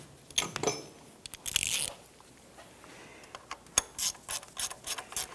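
Ratchet snugging down ignition coil bolts on a 2007-2012 Nissan Versa engine during valve cover replacement; close, quiet bursts of clicking and mechanical rattles with short pauses, no talking.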